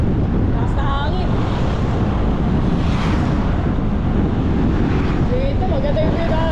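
Strong, steady wind roaring and buffeting across a microphone during a motorcycle ride along a road toward the Sierra in Infanta, Quezon, loud and constant throughout.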